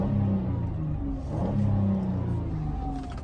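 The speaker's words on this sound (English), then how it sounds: "give it a couple of revs for you guys." A 2016 Chrysler Town and Country minivan with about 53,000 miles revs its engine in the open, the steady rumble swelling into a louder rev midway before settling back, with no talking.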